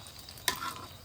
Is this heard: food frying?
yes